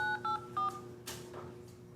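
Three short telephone keypad tones, then fainter presses, as a PIN is entered on an EBT benefits phone line. The beeps are close and clean, with only a quiet background hiss.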